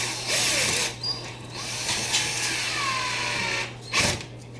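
A power drill whirs in short and longer bursts, grinding into the hard wall of an old house, close by and fairly steady.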